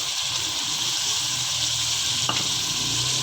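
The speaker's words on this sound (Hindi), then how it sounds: "मज़ीद इसको 3 से 4 मिनट और फ्राई करेंगे।" Chicken karahi frying in a pan, a steady, close sizzle with soft crackling and a brief clink partway through, no voices.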